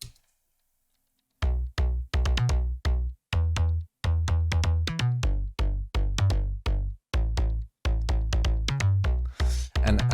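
Slap house bass synth, a rapid series of punchy, loud plucked bass notes in a bouncy rhythmic pattern with short gaps, after a brief silent start, alone without talk.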